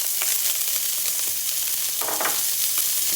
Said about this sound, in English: Our oils got hot while we were showing you what you need for the recipe, so now I'm going to start by adding my peppers and my little bit of jalapenos.